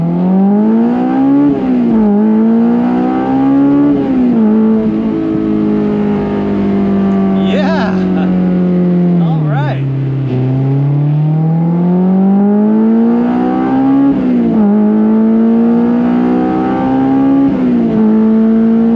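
A Honda S2000 fitted with new Hasport/Innovative motor mounts, its engine running steadily with the pitch rising and falling in repeated blips, loud and close, while people talk over it.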